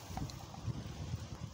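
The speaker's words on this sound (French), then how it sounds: "Désolé pour le vent les amis" Gusty wind buffets a microphone at a river fishing spot, a steady low rumble with soft swells that rises and falls through the moment, no voices present.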